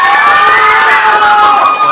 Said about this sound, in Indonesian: kasih tepuk tangan ya untuk kelompok 3 sudah presentasinya